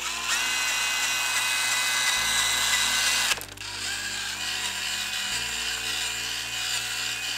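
Drill-driven hone working inside an engine cylinder bore for a junkyard shortblock build, a loud continuous high whine that changes pitch, briefly cuts and then resumes steadily, close by with no voices.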